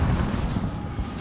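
A grenade explodes in Call of Duty Modern Warfare beta gameplay, heard as a heavy, low, rumbling blast that rolls on for the whole brief moment without any voices.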